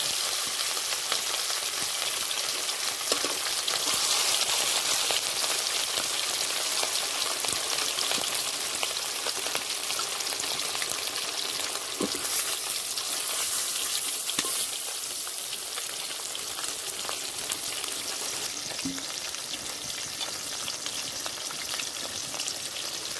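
Rohu fish pieces frying in hot oil give a steady, dense sizzle that runs unbroken for the whole stretch, close and fairly loud, with a few soft clicks and spatters and no voices.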